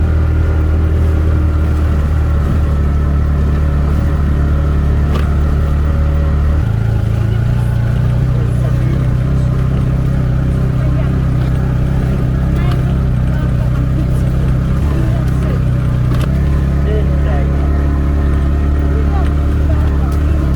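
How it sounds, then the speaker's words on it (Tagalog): A motorcycle labours up a long, steep uphill road that is slippery with loose rocks, its engine droning loud and close throughout with a downward pitch shift partway through, while a voice talks over it. "kahit pa paano umahon na itong motor natin"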